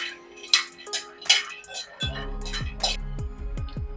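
Peanuts are dry-roasted on a low flame and stirred in a pan, giving light rattling clinks and scrapes up close, with a steady low hum entering halfway through.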